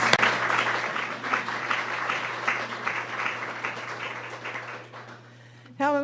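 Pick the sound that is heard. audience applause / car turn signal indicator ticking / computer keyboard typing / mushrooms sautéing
audience applause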